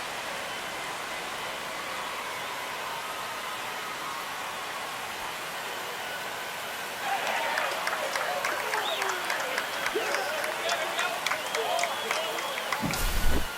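In the MLB The Show 25 video game, a stadium crowd roars after a home run in a Mets vs Marlins game. A broad wash of crowd noise swells louder halfway through, with whistles and cheers rising above it. No talk is heard.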